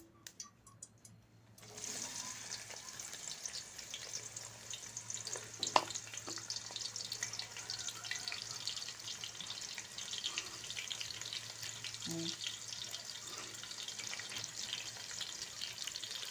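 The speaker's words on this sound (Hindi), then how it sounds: "ये देखें ऑयल हमारा गर्म हो चुका है, इसमें हम प्याज ऐड करने लगे हैं" Onions hiss and sizzle in hot oil for a chicken biryani. The frying starts suddenly and then runs as a steady, close crackle, with a few faint clinks now and then.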